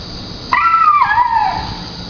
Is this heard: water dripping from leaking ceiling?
no